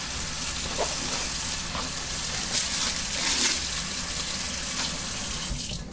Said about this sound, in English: Turn off my water.